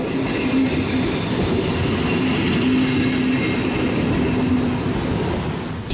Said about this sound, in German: Fünfmal täglich wird im Hauptbahnhof von Oslo ein Zug für die Fahrt nach Bergen bereitgestellt.